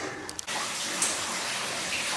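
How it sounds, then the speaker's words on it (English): Water runs inside the abandoned Cascade Mine, a constant hissing flow that sets in after a couple of brief knocks and continues evenly at moderate distance. "Alright, I hear a lot of water up ahead."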